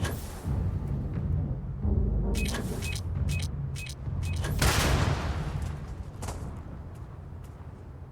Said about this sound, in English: Somebody throw a freaking grenade?